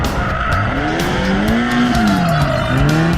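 Japanese performance car circling a full lap in first gear, a loud sustained engine note rising and falling with persistent tire squeal as it skids around the turn, no voices.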